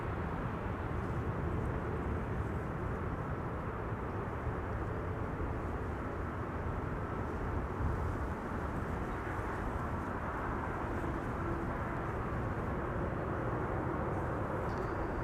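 Aircraft landing at Amsterdam Schiphol Airport, a steady broad jet roar heard from a distance that holds evenly without a clear peak, with no voices.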